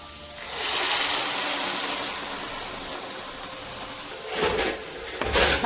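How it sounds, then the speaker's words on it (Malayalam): Boiling water pours steadily into a pot of vegetable biryani, a close rushing gush lasting a few seconds, with brief bursts of splashing near the end. "തിളച്ച വെള്ളമാണ് ഞാൻ ഒഴിക്കുന്നത്"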